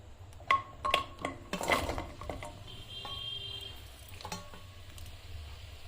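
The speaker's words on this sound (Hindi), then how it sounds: "खजूर को हम घी में इसलिए भून रहे हैं" Pitted dates sizzle gently as they fry in ghee in a pan over a low flame, with a few sharp clinks of a spoon against the pan near the start.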